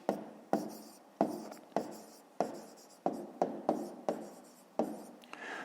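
Pen writing by hand on paper during a 5th-grade math exercise, with about eleven sharp strokes and scratches in a steady, uneven rhythm, close and fairly loud, with no talking.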